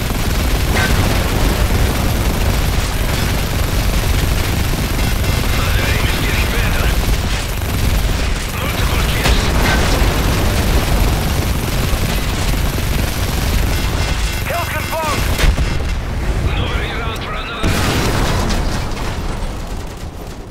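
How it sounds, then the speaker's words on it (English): Heavy machine gun fire in the Modern Warfare 3 campaign, loud and sustained bursts mixed with booms and explosions, with shouted voices over the continuous battle din. "Those MGs are tearing us apart!"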